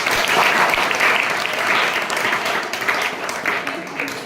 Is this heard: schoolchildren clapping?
yes